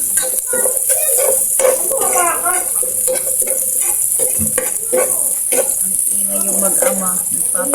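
Chopped garlic and onion sizzling hard in a hot frying pan, a loud continuous hiss broken by the scrape of stirring, while a voice talks over it.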